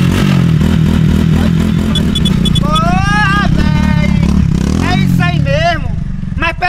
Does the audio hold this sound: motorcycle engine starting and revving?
yes